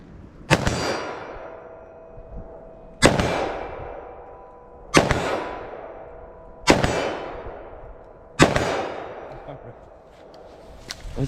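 Five sharp gunshots from a short-barrel .357 Magnum revolver firing Federal Train + Protect ammunition, each loud crack ringing out and decaying over about two seconds, spaced evenly outdoors.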